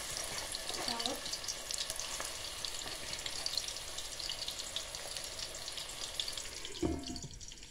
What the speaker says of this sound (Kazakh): жуылған өкпемізді салып